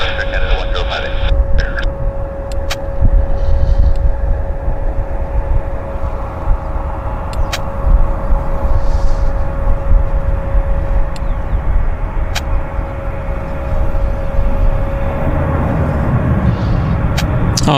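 An older Central Mountain Air Dash 8 turboprop at YVR airport, a steady droning engine tone with a constant propeller hum over broadband rumble, heard at a distance for the whole stretch, no voices.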